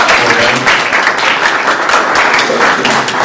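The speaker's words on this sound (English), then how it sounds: "a round of applause for them" Loud, sustained applause from an audience at a school girls' event honoring a performing team, a thick continuous wash of many hands clapping with gentle swells and faint voices mixed in beneath.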